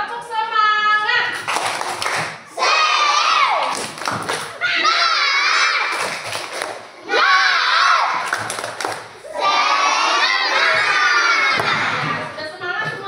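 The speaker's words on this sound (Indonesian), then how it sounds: "Ya, tepuk semangat." Schoolchildren in an Indonesian classroom perform the tepuk semangat clapping chant, with loud bursts of shouted chanting and rhythmic group clapping that come in repeated phrases separated by brief pauses.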